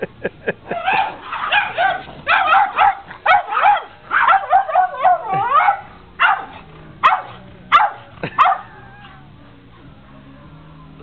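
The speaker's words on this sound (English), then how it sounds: "Dogs in the neighborhood are barking." Neighborhood dogs bark in repeated, uneven bursts of sharp, yelping calls with short pauses between them, loud and fairly near, with no talking.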